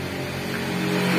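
Steady low rumble and whine of a Toyota Avanza drivetrain running in gear with a rear wheel jacked up off the ground, heard close underneath the car and rising slightly in level.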